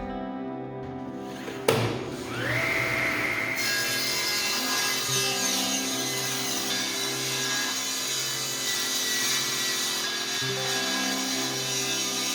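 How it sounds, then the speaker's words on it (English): Table saw ripping wood boards in a workshop, the blade spinning up with a rising whine, then a sustained loud cutting drone with tonal hum as the board feeds through, close and steady. "So I'm going to do some work on the table saw"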